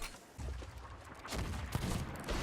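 Bursts of rapid gunfire crackle through a busy Sea of Thieves game soundscape, with several sharp shots standing out in a dense, loud mix.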